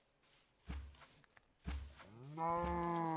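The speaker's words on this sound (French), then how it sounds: "c'est une vache" A cow in a video game lets out a drawn-out, loud moo that rises at the end, preceded by a couple of soft thuds like footsteps in a quiet setting.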